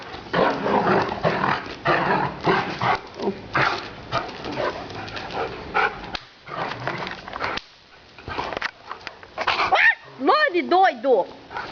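A dog barks and growls in bursts while people talk and urge it on nearby, ending with a few higher, whining yelps.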